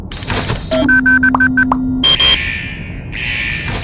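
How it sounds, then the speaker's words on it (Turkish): A vault alarm blares in the Henry Stickmin video game, a loud electronic buzzer tone broken into repeated pulses, followed by a short rising electronic sweep and more synthetic noise. "Looks like he set off some sort of alarm in the vault."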